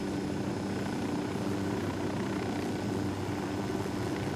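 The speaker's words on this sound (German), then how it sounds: "Ich warte mal, bis der Heli da weg ist." Helicopter flying overhead in Ghost Recon Wildlands, a steady droning rotor and engine hum at moderate distance, continuous with no talk.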